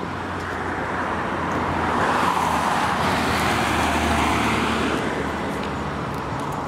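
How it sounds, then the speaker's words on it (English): Steady road traffic on a city street on Vasilievsky Island, cars and heavier vehicles rolling past in a continuous loud wash of engine and tyre noise with no pauses. "Waiting for traffic to clear."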